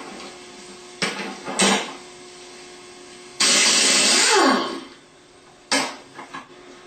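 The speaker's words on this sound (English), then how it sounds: "Then you need a 1/2 inch impact with a 15/16 socket counterclockwise." Half-inch impact wrench with a 15/16 socket spinning an alternator pulley off its shaft counterclockwise on a Bosch alternator, heard as several loud short bursts of ratcheting hammering, one longer sustained whir in the middle, with metallic clanks between.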